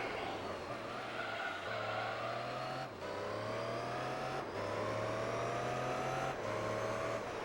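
A Pagani Zonda race car engine in Gran Turismo 3 drones loudly and continuously, climbing in pitch through the gears with brief drops at each shift, heard alone without talk.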